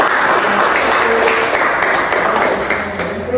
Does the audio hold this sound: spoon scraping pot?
no